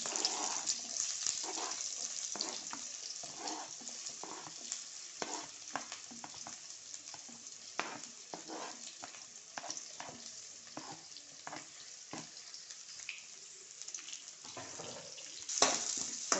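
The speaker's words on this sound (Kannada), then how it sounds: "ಬೆಳ್ಳುಳ್ಳಿ ಚೆನ್ನಾಗಿ ಬೆಂದ ನಂತರ ನಾವು ಸಣ್ಣಗೆ ಹೆಚ್ಚಿದ್ದಂತಹ ನೀರುಳ್ಳಿ ಹಾಕಬೇಕು" Finely chopped onions frying in a pan with garlic, a steady soft sizzle broken by frequent scraping and stirring clatters, fairly quiet and close with no talking.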